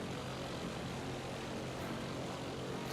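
Propeller airplane engine in the 007: Nightfire video game, a steady, loud, continuous drone filling the whole stretch without breaks, with no talking over it.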